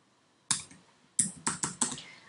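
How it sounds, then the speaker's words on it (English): Keys on a computer keyboard are typed close by: one sharp click, a short pause, then four quick clicks in a row. "this time I'm going to type Happy Birthday"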